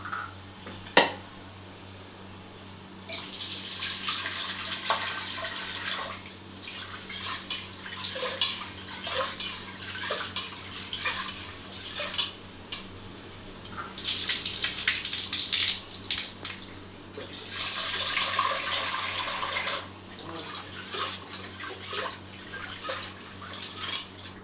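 Toor dal being washed under a running kitchen tap, with steady streaming water in bursts, swishing and faint clinks of a vessel or utensil, close by and without talk.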